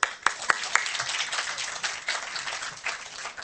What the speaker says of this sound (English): We want some more claps now